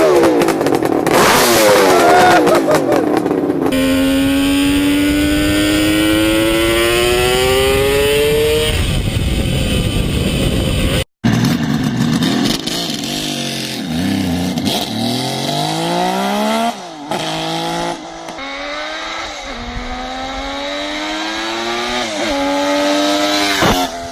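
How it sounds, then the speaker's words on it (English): Carbureted Kawasaki H2 750 two-stroke three-cylinder motorcycle revving hard and loud, with rising and falling throttle sweeps, a brief cut near the middle, then repeated blips and climbs. "Old school 2-stroke carbureted 3-cylinder front from Kawasaki."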